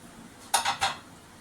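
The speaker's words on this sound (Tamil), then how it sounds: "கொதிக்க வச்ச வேக வச்ச தண்ணியை வடிச்சாச்சு" Boiled veg noodles tipped into a metal strainer, with two quick clattering bursts of pot and utensils against each other, close and fairly loud over a quiet kitchen background.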